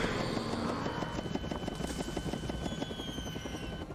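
Private helicopter in the video game LEGO Jurassic World, a steady rhythmic rotor chop with a whining engine tone, close and continuous for the whole stretch, with no talking.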